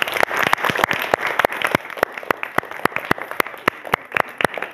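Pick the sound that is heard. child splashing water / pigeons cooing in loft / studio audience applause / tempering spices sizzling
studio audience applause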